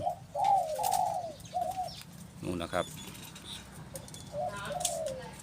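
A dove coos in soft, rounded phrases, several calls spaced out, with someone speaking briefly in between and faint background noise.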